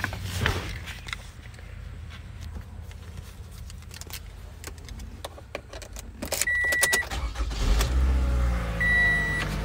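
Keys jingle and click, then a 2014 Toyota Camry engine cranks and starts, settling into a low steady idle with a few electronic chimes and beeps.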